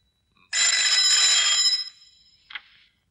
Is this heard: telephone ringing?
yes